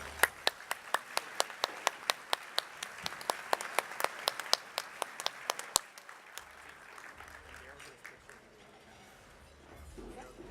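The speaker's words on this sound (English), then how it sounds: "Let's give them all a round of applause." Applause at the AFCEA International 2019 awards presentation: brisk, evenly spaced claps ring out for about six seconds, then thin to scattered claps as talk continues.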